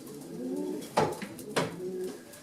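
Racing pigeons cooing softly and repeatedly in a loft, a low rolling warble with a couple of louder flutter-like bursts, in an enclosed space.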